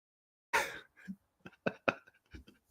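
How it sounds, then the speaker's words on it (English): A single loud, harsh cough up close, followed by a few softer throat-clearing sounds and short breaths. "1 second, because I need to cough."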